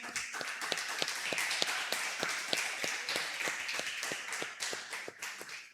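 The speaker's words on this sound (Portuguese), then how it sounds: "Aplaude ao Senhor." A church congregation claps in rhythm at a Sunday service, loud regular beats of many hands together under a bright wash of scattered clapping, continuing steadily before fading slightly at the end.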